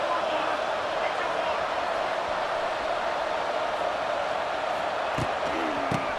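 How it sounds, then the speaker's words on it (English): A home stadium crowd in the video game College Football 26 roars in a steady, dense wash of noise throughout, with a couple of brief thumps near the end. "this home crowd is fired up and ready to make a difference"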